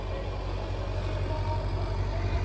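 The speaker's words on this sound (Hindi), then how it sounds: "ये ट्रैक्टर चल रहा है यार" A steady low tractor engine rumble drones nearby without a break, a continuous idling hum filling the background.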